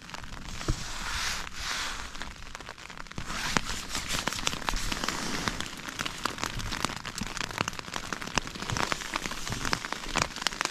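Rain patters steadily on a small Bass Pro Shops coffin tent during an overnight camp, a dense close crackle of drops on fabric that thickens partway through and continues without speech.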